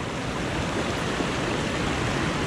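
Catawba Falls in North Carolina, a continuous broadband roar of falling water, loud and close, with no talk over it.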